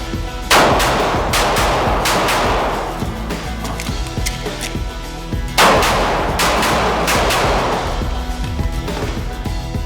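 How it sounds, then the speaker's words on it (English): Loud pistol shots from a Bul Armory TAC Pro fired at an outdoor range, two sharp close reports several seconds apart, each followed by a rolling echo. "Let's shoot it some more."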